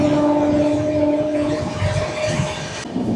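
An express train rolling into Belda station, heard from on board: a loud, steady rumble of wheels on track with faint high squealing tones early on, then a continuous rattling roar.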